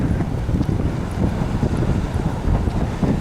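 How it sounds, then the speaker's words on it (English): Strong spring wind buffeting the microphone on a riverside walk, a steady loud low roar with gusty fluctuations throughout and no talk. "Wind."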